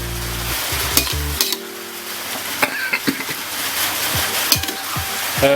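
Shrimp and squid are stir-fried with oyster sauce for stir-fried holy basil, a continuous sizzle in the pan broken by repeated scraping strokes and clanks of the spatula, close and fairly loud.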